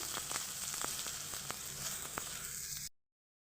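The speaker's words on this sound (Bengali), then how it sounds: "পেঁয়াজগুলোকে ভেজে নেবো আমি ভালোভাবে" Chopped onions sizzle in hot oil, a dense, even crackle close by with a few sharp pops, cutting off abruptly near the end.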